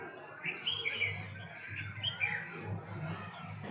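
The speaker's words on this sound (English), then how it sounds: "waking up to the sound of birds" Small birds chirp and tweet at sunrise from a city balcony in Chiang Mai, a few clear calls standing out over a steady low background hum of the waking town.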